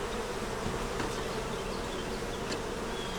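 Honey bees festooning on foundation inside a hive make a steady, dense buzzing hum, close and continuous with occasional individual bees droning past.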